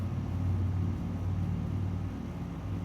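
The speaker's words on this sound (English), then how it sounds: "Loud car." A loud car goes by outdoors, a steady low rumble that stays heavy across the whole stretch with no voices over it.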